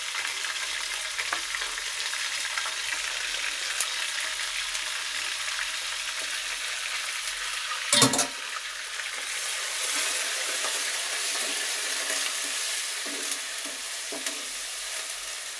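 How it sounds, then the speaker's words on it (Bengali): Freshly blended ginger and garlic paste, two tablespoons of each, sizzles steadily in a pan with a soft, even hiss. Around the middle comes one sharp utensil clatter from stirring. "আদা রসুনটা ভালো করে একটু কষিয়ে নিয়ে"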